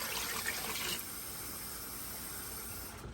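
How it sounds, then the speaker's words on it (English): Water gushes into a pot over chicken legs with a bright, splashy pour for about a second, then cuts off, leaving only faint background hiss. "Now I'm just going to add water until it covers"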